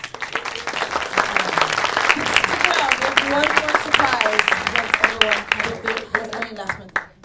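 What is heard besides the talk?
audience applause for the panel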